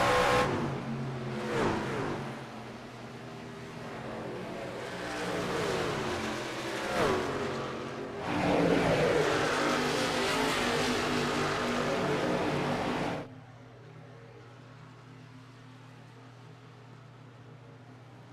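Racing truck engines roar and whine in a Wild West Racing League truck series race at Homestead in a video game, with several loud passes and shifting pitches before the sound drops abruptly to a quieter steady hum.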